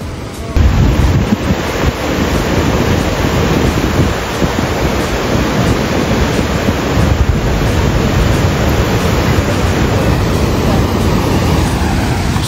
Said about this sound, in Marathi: 3, 4, 5 असे मल्टिपल स्रोत आहेत पाण्याचे आणि खूप ह्यूज आहे, खूप ग्रेट आहे, म्हणून तो ग्रेट फॉल्स